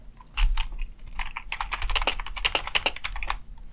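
Steady, fast typing on a computer keyboard while notes are taken, close and clear, with a quick clatter of keystrokes running continuously for several seconds.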